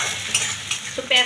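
Chopped onions frying in hot oil in a wok, a close sizzle with a few scraping stir strokes and a louder spatula knock near the end, no voices.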